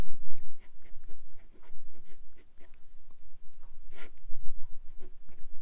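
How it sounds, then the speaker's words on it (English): A Sailor Lecoule fountain pen with a Japanese fine nib scratching across paper in quick, irregular strokes, close up and crisp with a slight textured feedback. "you know that you're writing with a fine nib."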